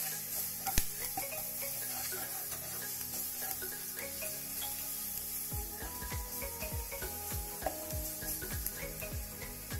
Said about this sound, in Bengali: আমি ভালো করে কষিয়ে নিচ্ছি মশলাটা।